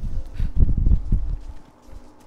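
Horse hooves clip-clop in Diablo 4, a few heavy, irregular thuds close by that fade out toward the end.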